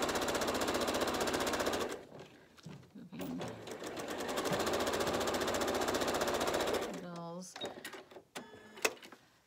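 A sewing machine stitches a quilt seam in fast, loud mechanical bursts, pausing between runs. A voice speaks briefly near the end as the machine stops and starts.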